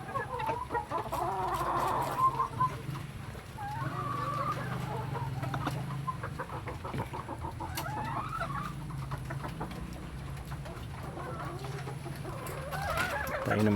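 Several chickens cluck and murmur continuously near a bamboo coop, with occasional sharper calls over a soft, busy background and faint voices now and then.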